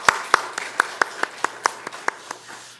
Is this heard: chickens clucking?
no